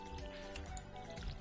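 Watering crops with a watering can in the Stardew Valley video game: a soft, continuous splashing pour over low game music, steady and moderately loud throughout.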